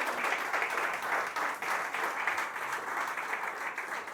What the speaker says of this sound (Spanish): un aplauso, realmente un aplauso para el Señor